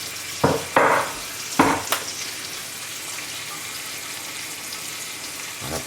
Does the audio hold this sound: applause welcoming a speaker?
no